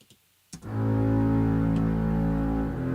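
A click, then a deep, sustained synth bass note from a double bass patch transposed an octave down swells in and holds steadily, low and rich, with no other sounds.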